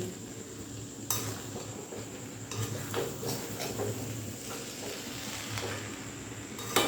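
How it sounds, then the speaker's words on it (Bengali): A spoon turns chicken pilaf (morog polao) over in a pot, with steady close scraping and shuffling strokes over a soft background sizzle and the occasional clink against the metal. "দেখুন আমি কিন্তু খুব ভালো করে পোলাওটা উল্টে পাল্টে নাড়াচাড়া করে দিলাম"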